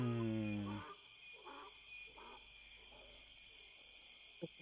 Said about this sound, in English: you can hear the owl coming from upstairs somewhere